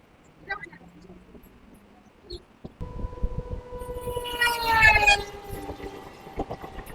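The Sealdah Jangipur Express passing through Barrackpore station, a sustained horn tone rising over rumbling wheels and building to a loud peak before fading, with faint voices early on.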